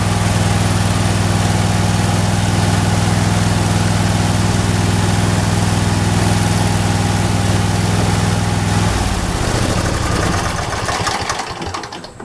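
Briggs & Stratton engine with a faulty voltage regulator, idling steadily and loud and close with an even mechanical chug for about nine seconds, then cut off and winding down to a stop.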